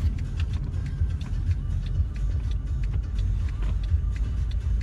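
A car drives slowly into a concert venue area in Szczecin, giving a continuous low engine rumble with road noise and occasional small knocks, close and steady, with no speech over it.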